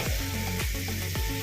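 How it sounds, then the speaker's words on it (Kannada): Curry leaves and mint fry in a pan with a steady, close sizzle and crackle; three soft scraping strokes of stirring recur roughly every half second, with no voices. "ನೋಡಿ ಹೇಗೆ ಫ್ರೈ ಆಗ್ತಿದೆ ಅಂತ."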